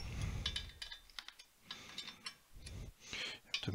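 The Y-axis carriage of a Prusa i3 MK3 3D printer being slid by hand along its rods produces faint, irregular clicks and short sliding rasps that come in bursts with quiet gaps between them.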